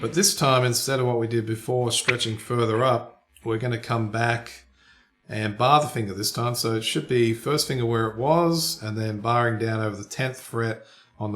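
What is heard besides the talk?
No distinct noise like a dog, phone or traffic.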